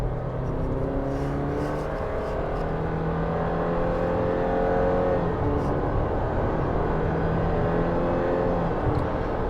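A 2022 Subaru Forester Sport accelerates hard on a test drive, its engine drone climbing steadily and evenly under continuous road and wind noise from inside the cabin, with no talking.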